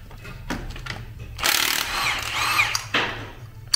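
Power tool on full power loosening the crankshaft pulley bolt of a 1.5 dCi engine, bursting in loud and sustained for a couple of seconds with a rattling mechanical whine, then tailing off.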